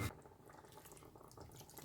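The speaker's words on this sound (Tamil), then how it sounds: "இப்போ இன்னும் கொஞ்சம் தண்ணி விடுவேன்" Water splashes and trickles steadily into a cooking pot of mango and dried fish curry nearby, a soft continuous pouring with faint bubbling.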